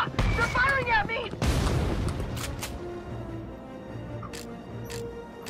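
Enemy gunfire in the war video game Valkyria Chronicles 4, a few sharp shots and booms up front, then quieter rumbling battle noise with game sounds, mixed with brief voices.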